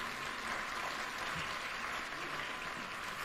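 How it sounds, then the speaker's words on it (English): Faint applause from an audience at an innovation week opening ceremony attended by the president, a soft, distant and even wash of clapping with no voices. "Another warm applause for the CEO Kenya."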